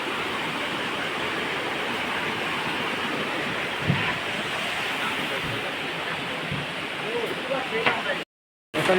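River water flows with a close, continuous rushing hiss that stays even throughout, dropping out for a moment just before the end.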